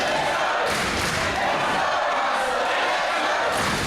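Steady, loud roar of a pro wrestling crowd at an Aftershock Pro Wrestling event, continuous throughout, with cheering swells over the hall's reverberant din and occasional thuds beneath.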